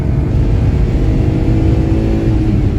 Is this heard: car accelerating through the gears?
yes